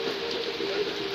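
Steady afternoon rain falls in an even, continuous hiss, close and unbroken, with no talking over it.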